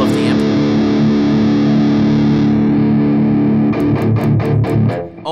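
Heavily distorted metal guitar through an Overloud TH3 amp simulator, loud sustained chugging chords that break into a rapid run of palm-muted staccato hits near the end.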